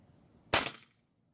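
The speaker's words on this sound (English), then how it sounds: "Man, this moderator's nice. I've been hearing a lot of complaints about it. It's no good, but I mean, it quiets it down a lot, tremendously. Here we go, another shot." A moderated Smk CP1 .22 air rifle with a short barrel, tuned for over 500 fps, fires a single close shot: a short, muffled pop that fades quickly into quiet.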